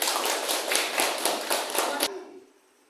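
A class of children claps together in a quick, even rhythm of sharp bursts for about two seconds, then stops abruptly.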